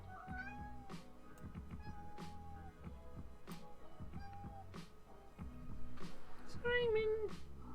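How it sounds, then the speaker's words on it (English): A house cat meows several times nearby, the calls rising and bending, with a louder, longer meow near the end over a quiet indoor background. "I hear a cat."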